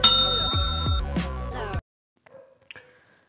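A bright metallic bell dings a few times in quick succession, loud and ringing, then cuts to near silence with a couple of faint soft clicks.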